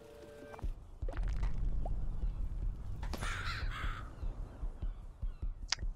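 Seagulls cawing in the video game Donut County, a few harsh calls over a steady low background rumble with light game effects around them.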